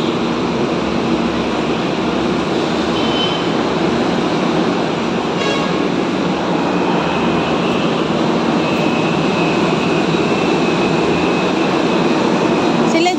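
Steady, loud rumble and rushing noise of an MRT metro train running in Manila, continuous throughout with a brief clatter midway and no clear talk.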